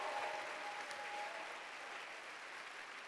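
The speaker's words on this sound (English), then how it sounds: "So now you can give me a round of applause for the first Ignite of the evening." An audience round of applause at an Ignite Seattle talk event, steady, even clapping from a crowd heard at a distance and fairly quietly, a faint tone running under the start.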